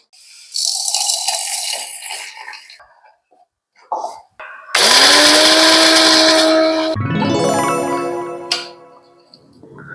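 A mixer grinder blitzes black cardamom seeds and spices in loud, near bursts: short pulses, then a steady motor roar that drops away, followed by a rising whine as the blades spin up again.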